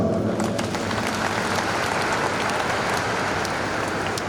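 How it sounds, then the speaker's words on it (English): A church congregation at an interdenominational service in Abuja marking Nigeria's independence claps together, a broad, even wash of applause that stays constant from start to finish. "Can we clap for them?"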